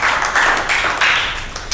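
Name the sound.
class clapping for a student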